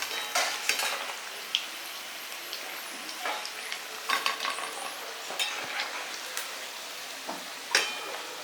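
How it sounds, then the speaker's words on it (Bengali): Crackling, popping sizzle of liver fritters deep frying in hot oil, steady and close, with scattered sharp spits and an occasional utensil click. "একটু বেশ মচমচে করে ভেজে তুলতে হবে"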